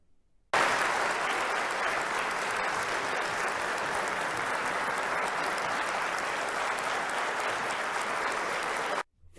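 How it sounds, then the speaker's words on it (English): Sustained audience applause following a teapot dance, a dense, even wash of clapping that starts abruptly, holds at a steady level for several seconds with no talk, then cuts off sharply. "30 solid seconds of applause."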